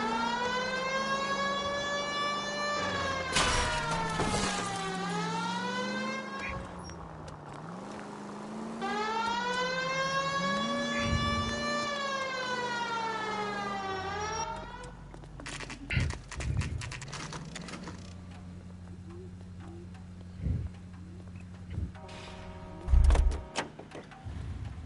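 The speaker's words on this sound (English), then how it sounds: "we might get there quicker if you use the siren" Police car siren in the LA Noire video game, a loud rising and falling wail cycling twice, then cutting off to engine hum, horse hoof clops and scattered thumps.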